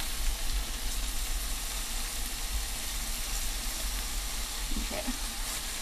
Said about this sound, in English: Then I'm just going to drop the sausage in there. It's going to start cooking.